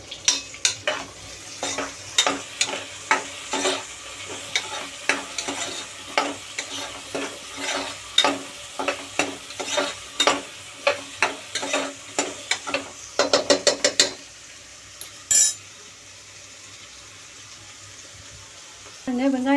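Chopped onions fry in oil while a metal spoon scrapes and stirs them in quick rhythmic strokes, loud and close over a constant sizzle; the stirring stops partway, leaving a quieter hiss with a brief clatter.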